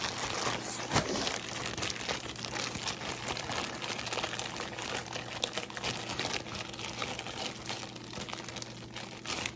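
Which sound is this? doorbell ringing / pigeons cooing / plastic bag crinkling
plastic bag crinkling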